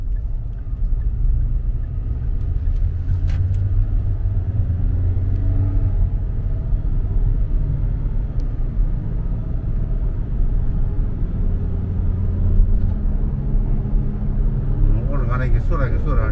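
A Tivoli 1.6 turbo climbs a hill, its engine a low steady rumble heard from inside the cabin, with people talking over it throughout.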